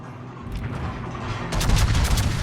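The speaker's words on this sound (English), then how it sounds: "He's firing on me. Pozarski's firing on me." Naval gunfire in the World of Warships video game: rumbling booms and shell impacts, loud and close, with a heavier salvo burst in the second half.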